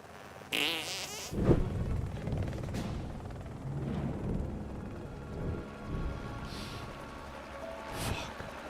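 A comedic fart sound effect in a video game, triggered by a controller button, begins as a short sharp burst and then turns into a long, rumbling, sputtering blast over faint background game noise.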